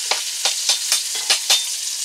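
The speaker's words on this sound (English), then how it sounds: "I'm going to add my onions and let them soften up." Onions fry in a pot for sauerkraut soup, with a steady bright sizzle broken by about six regular stirring scrapes, loud and close, no voices.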